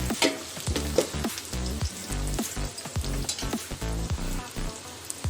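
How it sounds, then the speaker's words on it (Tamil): Onions sautéing in a hot pan for chicken 65 biryani, a loud steady sizzle broken by regular scraping stir strokes, close up and heard alone. "வெங்காயம் நல்லா வதங்கி வந்துடுது"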